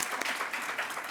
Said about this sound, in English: can I have everyone join me in a round of applause for Dr. Candela and Dr. Suzanne Williams?